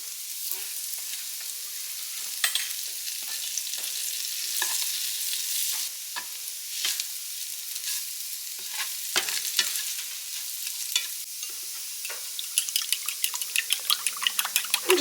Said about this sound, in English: I'm going to add some butter into my pan.